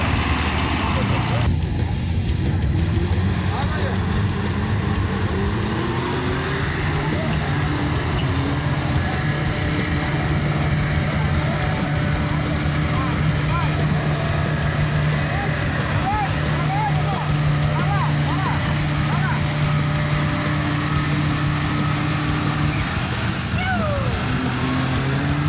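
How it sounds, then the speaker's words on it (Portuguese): An off-road jeep engine on a club trail event in Irani, Brazil, drones steadily at load while winching itself out, anchored to a tractor, loud and continuous with crowd chatter and talk mixed in. "Saiu no seu próprio guincho, ancorado no trator."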